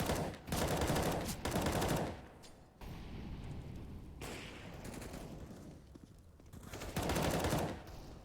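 An AK rifle fires in loud, rapid bursts during a competitive shooter video game match, with heavy volleys near the start and again near the end and quieter firefight noise between them.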